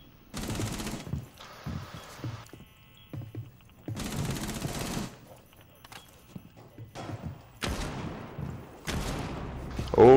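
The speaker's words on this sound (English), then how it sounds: "They're all shooting at me." Gunfire in the video game Rainbow Six Siege, rapid automatic bursts in separate volleys of about a second each, loud and close with quiet gaps between them.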